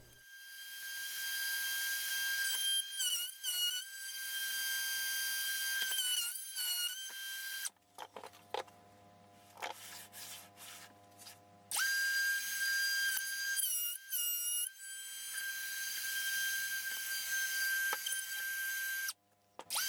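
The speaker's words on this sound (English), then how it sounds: "I then cut the two circles and also adjust the diameter so that my 1/4 inch router bit can cut the width of the rebate" A router with a 1/4 inch bit cuts rebate circles in speaker baffles, a loud high-pitched motor whine that starts and stops in bursts with quiet gaps and a rougher cutting stretch between, heard close with no talking.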